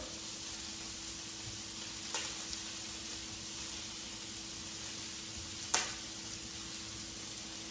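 Chopped jalapeno and garlic sizzle steadily in a hot pan, a close, even hiss holding throughout with two brief sharp clicks of a utensil.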